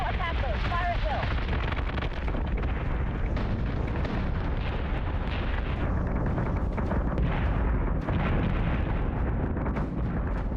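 Starship weapons firing in the space battle game Battlestar Galactica: Deadlock, a dense, continuous barrage of booming blasts and explosions, loud and rumbling throughout, with voices heard through the din.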